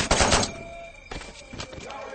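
Gunshots fired into the air in a Johnny Mad Dog film scene: a loud opening burst of rapid shots followed by a few sharper, sparser reports, with a faint tone ringing underneath.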